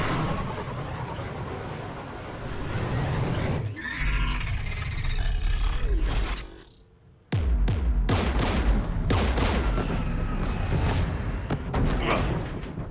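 Gunfire from anti-aircraft guns beside a jamming tower strikes a shuttle in the video game Mass Effect 3, loud dense bursts and roaring blasts, broken by a brief near-silent gap before heavy firing resumes.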